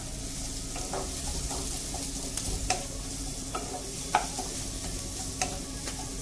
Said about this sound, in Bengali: এখন আমি গাজরগুলোও দিয়ে দেবো